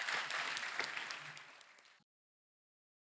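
Studio audience on a Hindi TV comedy show breaks into loud applause for the guests, dense clapping for about two seconds before cutting off abruptly into silence.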